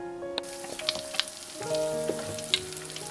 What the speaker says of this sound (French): Vous utilisez une friteuse, donc vous faites dorer de chaque côté, vous retournez de temps en temps.